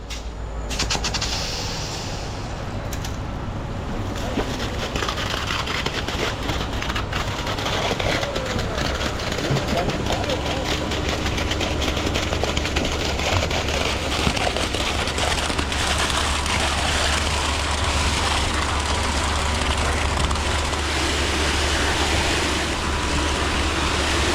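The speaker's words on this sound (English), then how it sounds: "All right, here we go, pump on." A concrete pump runs at a grain terminal, a low steady mechanical rumble and broadband roar that builds and holds over about twenty seconds, with faint clanks, heard at moderate distance without speech.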